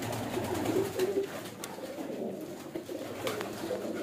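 Breeder pigeons give soft, low cooing calls nearby, repeating in short murmuring phrases over a quiet indoor background.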